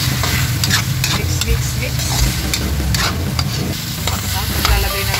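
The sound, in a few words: stirring chopsuey with chicken and liver in pan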